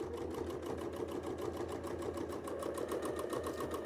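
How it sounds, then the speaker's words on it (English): A sewing machine runs steadily through free-motion quilting on a detailed quilt with fine thread, giving a continuous, fast, even needle chatter at close range with no talking. "Just put a few thousand more stitches in there"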